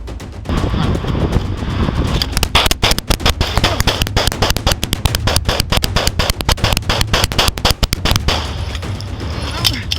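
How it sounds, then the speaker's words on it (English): Rapid barrage of gunshots from a semi-automatic pistol in a police confrontation, dense loud cracks repeating over several seconds with voices mixed in. "drawing a semi-automatic pistol. He aims directly at the officer requesting identification and instantly unleashes a barrage of bullets"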